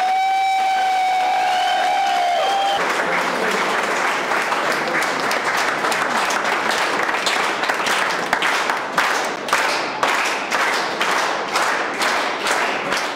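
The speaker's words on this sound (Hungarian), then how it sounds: "Lovas Ottót óriási taps fogadta, és persze könnyes szempárok." Colleagues greet a paramedic retiring after 45 years of service with huge applause. A siren wails at first, then gives way to loud, sustained clapping that turns into rhythmic, unison claps.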